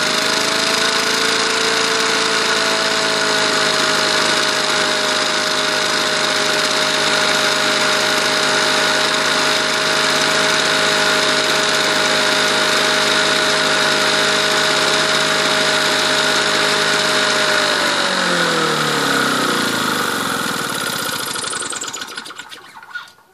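A Victa two-stroke lawn mower engine runs at a steady, loud buzzing idle for about twenty seconds, then winds down and sputters to a stop as it runs dry. No one speaks.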